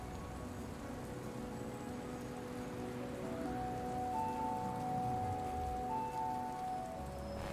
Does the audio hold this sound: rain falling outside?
yes